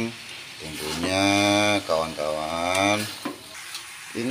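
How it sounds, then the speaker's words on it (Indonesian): Potatoes and chicken liver fry in spices for sambal goreng and are stirred in the pan, giving a steady close sizzle with scraping, while a loud tonal, voice-like sound rides over it for most of the clip. "Kita aduk, kita ratakan bumbunya, kawan-kawan."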